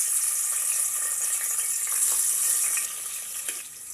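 Onions sizzling in hot oil in a pan for tripe (boti) sambar, a steady bright frying hiss close by that eases slightly toward the end, with no talk.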